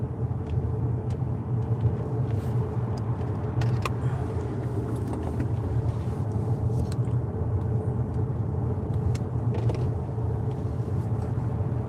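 Steady, continuous low rumble of an Xpeng G6 Performance electric car driving on a warm day, with a constant road and cabin drone and a few faint clicks and rattles over it, no talking.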